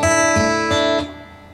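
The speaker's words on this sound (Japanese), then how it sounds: "ちょっとリバーブかけちゃうとこんな感じ。" Takamine DMP-50S acoustic-electric guitar strummed through its pickups with reverb added: three even chord strokes ring out close and bright, then the last chord decays into a fading reverberant tail.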